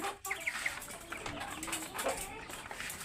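Laiza and hill roosters cluck softly among farm noise, a few short low calls and faint wing movement mixed into a busy, hissy background.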